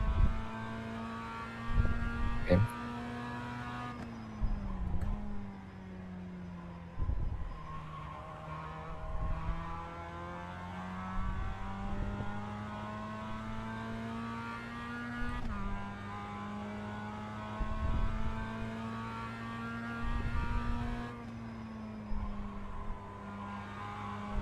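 A Mazda MX-5 race car engine in the iRacing sim drones at steady revs, with repeated sharp drops and climbs in pitch as gears shift; a voice speaks briefly once.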